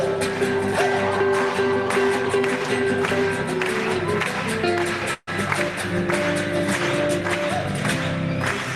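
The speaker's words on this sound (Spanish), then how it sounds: "¡Esas palmas, chicos!" A group of students clapping in rhythm along with a sung Latin American zamba during a workshop session, steady palmas under music and voices, with a brief dropout partway through.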